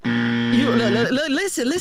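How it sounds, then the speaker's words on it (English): A sustained electronic buzzer tone sounds loud for about a second, then gives way to a voice making brief wavering vocal sounds. "I'm going to give you the buzzer for that."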